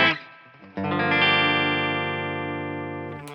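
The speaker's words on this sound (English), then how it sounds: "Here is the humbucker on the Acklot." An electric guitar's humbucker pickup rings through effects, giving a distorted, chorus-tinged strummed chord that swells and sustains with a slow fade, loud and alone.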